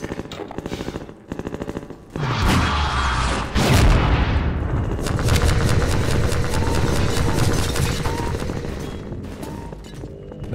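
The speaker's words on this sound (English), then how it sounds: "Are you shooting at me?" Rapid gunfire in Half-Life 2: a few separate shots first, then nearly continuous loud automatic fire with booming impacts that lasts several seconds.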